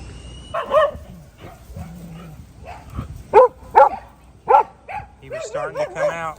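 Dogs in the Tayrona jungle barking near the burrow of a hiding animal, loud sharp barks and yips in short bursts, with whimpering, whining tones between them.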